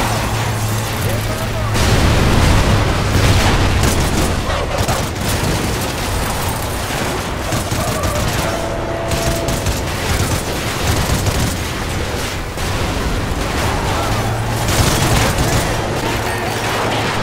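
A detonation in the Call of Duty: Ghosts video game: loud, sustained booming and rumbling with bursts of gunfire, and voices shouting over the din.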